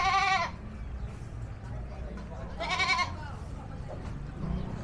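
Goats at a roadside market in Lian, Batangas, Philippines bleat twice, a loud near cry at the start and another a few seconds later, over steady market bustle and murmuring voices.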